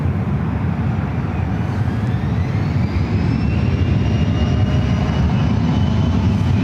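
A United airliner takes off from runway 1 left at San Francisco airport, its jet engines a loud, sustained roar with a rising whine running continuously.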